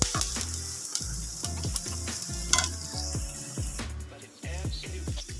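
Drumstick greens sizzle and fry in a hot pan while a spoon stirs and scrapes at a quick, regular rhythm, with occasional clinks against the metal, all close and busy.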